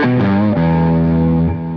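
Electric guitar played through a Mr. Jax drive pedal alone with no boost in front, a couple of sustained distorted chords ringing close and clear with no talking.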